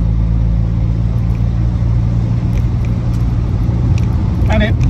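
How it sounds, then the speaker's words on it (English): MG Midget 1500 engine running steadily while the car is driven, a continuous low rumble with slight rises in pitch, heard from inside the cabin with a voice talking over it. "It does feel, as I say, really, really willing, the engine on it."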